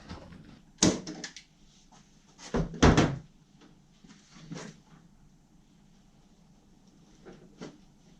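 IKEA cabinet door on new hinges being opened and shut, a few sharp wooden knocks and clunks at irregular intervals with quieter rattles between.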